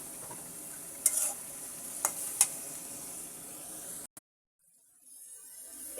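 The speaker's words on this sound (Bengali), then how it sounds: "মাছটাকে আমি এখন কষিয়ে নিচ্ছি" Snakehead fish sautéing in a pan with bay leaves, a steady close sizzle with a few sharp spatters and stirring clicks, cutting off abruptly to near silence before a faint hiss returns.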